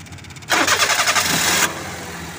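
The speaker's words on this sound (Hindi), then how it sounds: "तो आप हमें एक दफ़ा इसका स्टार्टिंग साउंड चेक करा देंगे गाड़ी बंद करके?" A modified 2006 Suzuki Alto with a 660cc engine cranks for about a second with a loud, pulsing starter whir. It then catches and settles into a steady, quieter idle, recorded close up with no talking.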